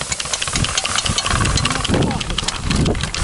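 Homemade electric snow sled with a 1.5 kW motor, its drive belt half slipped off, runs with a steady, rough, noisy whir close by, while voices talk over it throughout.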